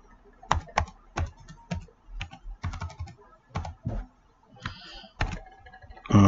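A password is typed on a computer keyboard, a close, irregular run of sharp individual key clicks with short pauses between bursts, then a louder knock at the end.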